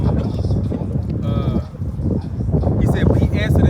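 Sheep bleat several times in short wavering calls amid farmyard livestock noise, with someone talking over them close by.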